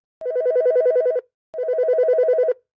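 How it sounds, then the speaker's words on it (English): A phone rings with two long, loud electronic trilling bursts separated by a short silent pause, heard alone and close. "Then my phone rings."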